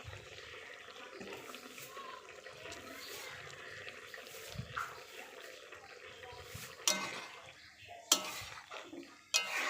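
A spoon stirs mixed vegetable curry in a pot, making soft wet scraping close by, with a few sharper knocks against the pot toward the end.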